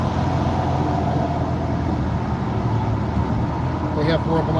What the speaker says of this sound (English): Semi truck to our right.